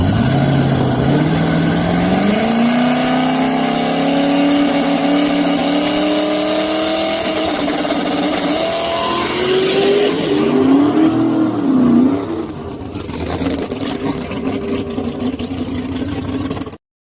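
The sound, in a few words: drag race car making its first pass at Immokalee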